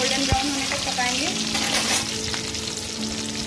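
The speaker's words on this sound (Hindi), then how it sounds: "लहसुन डालने के बाद इसको जरा सा हम फ्राई करेंगे, अच्छे से गोल्डन ब्राउन होने तक पकाएंगे।" Garlic crackles in hot oil for a drumstick leaves dish, a close, steady sizzle with stirring clinks through the short stretch.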